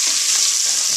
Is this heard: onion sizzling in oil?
yes